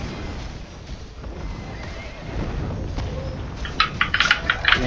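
A horse in a video game gives a loud whinny near the end, after a stretch of hoof clatter and busy game noise.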